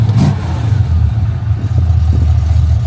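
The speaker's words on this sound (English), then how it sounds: "Idle's a little high" A clean older car engine idling slightly high, a steady loud low hum with even pulsing and no pauses, close up.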